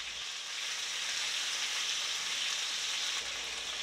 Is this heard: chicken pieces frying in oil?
yes